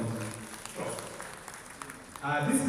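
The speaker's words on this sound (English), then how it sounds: "I think we should clap for Bishop for that" An audience applauds a bishop after his talk at a national conference business session. The clapping is a steady wash that swells near the end, mixed with someone speaking over it.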